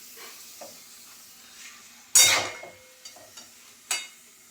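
A papad (poppadom) fries in a pan with one loud burst of sizzling spatter that fades quickly, followed by smaller clinks and a second short hiss, close up and with no speech.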